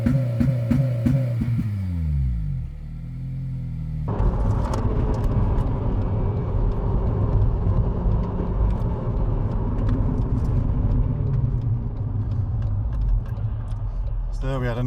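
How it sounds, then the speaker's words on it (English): A remapped Honda Civic Type R FN2 with a Marlin Ecutek ECU tune rumbles along the road, engine revs dipping and rising with a blip on a downshift, heard from inside the car over steady road noise. "There we had a nice little bit of blip on downshift"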